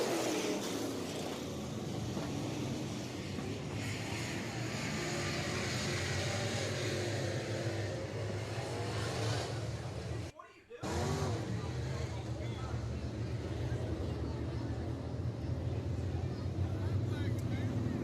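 Race cars at Southern Raceway accelerate away after the green flag, a loud, sustained multi-engine roar with wind buffeting, broken by a brief dropout midway before resuming, with indistinct voices underneath.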